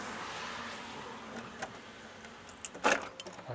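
Keys jangle briefly beneath something in a house, a short metallic rattle near the end over faint room noise.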